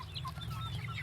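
Four-month-old kampung laying hens cluck in short, near, repeated calls over a low steady hum, with no talking.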